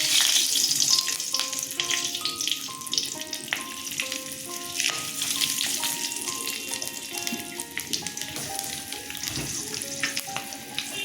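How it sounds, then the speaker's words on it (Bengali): Green chillies and nigella seeds hit hot oil in a pan just used for frying fish, giving a steady close sizzle with bright crackles and pops, plus a few scraping stirs and no talking. "আমি এবার কাঁচা লঙ্কা আর কালো জিরা ফোড়ন দিয়ে দেবো"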